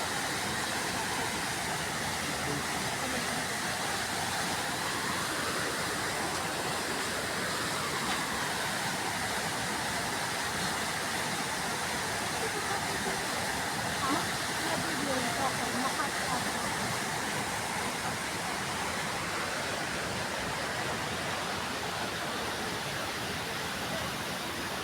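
A water fountain at the Peninsula Manila in Makati gives off a steady, broad rush of falling water that fills the whole stretch without pause.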